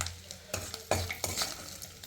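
Dried fish frying in oil in a pan, a soft sizzle broken by several clinks and scrapes of a spatula against the pan, close but fairly quiet, with no talk.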